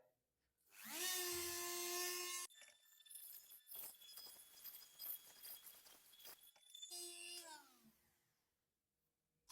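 A rotary engraver cuts with a cheap Chinese diamond disc, giving two loud, high whining bursts at the start and end, with a quieter, uneven grinding hiss between them.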